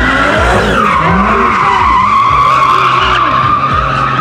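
A car drifting at a barangay festival, tires squealing loudly and continuously with a wavering screech and engine revving underneath, close and intense throughout.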